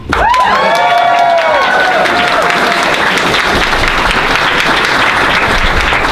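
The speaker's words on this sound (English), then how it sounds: "Applaud!" A convention panel audience breaks into loud, sustained applause with some cheering and whoops at the start, the clapping continuing evenly and close.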